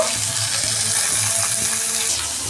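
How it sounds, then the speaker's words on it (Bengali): Bitter gourd pieces fry in hot oil in a pan, a loud, close, steady sizzle and crackle throughout a short stretch with no voice. "আমি এটা এখন শুধু করলাটাকে ভাজছি।"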